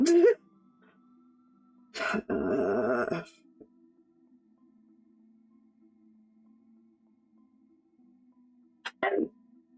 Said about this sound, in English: Hear you sneeze on my end.